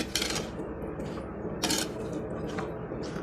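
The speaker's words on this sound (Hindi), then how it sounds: "थोड़ा सा लेमन निचोड़ दिया और अब इसे मिक्स कर रही हूँ।" Chana chaat with lemon juice and chaat masala being mixed in a bowl, with soft repeated clinks and scrapes of a spoon against the dish over a gentle background hum.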